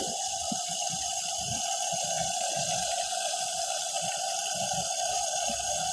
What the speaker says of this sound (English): and you pour your water in there